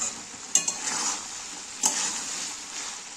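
Boiled jaggery water poured into a hot cooking pan holding masala, making a soft, steady sizzle with two brief clinks near the start and middle, close and fairly quiet.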